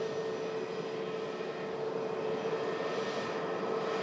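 Jet airliner engines at an airport, a steady, broad roar with a constant hum. It stays even and moderately distant throughout, with no voices.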